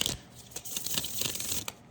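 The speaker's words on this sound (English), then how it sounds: "I'm gonna give it a good shuffle" An Alice in Wonderland tarot deck shuffled by hand: a quiet run of papery riffs and soft card slaps, close and continuous for about two seconds, with no talking.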